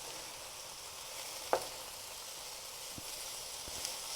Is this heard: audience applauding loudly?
no